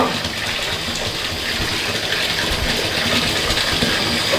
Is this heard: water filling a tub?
yes